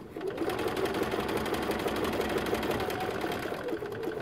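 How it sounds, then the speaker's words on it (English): A sewing machine runs steadily, stitching around the outer edge of a fabric patchwork coaster with a fast, even mechanical whir that holds throughout, close and alone. "we're going to stitch all the way around the outer edge, taking your pins out"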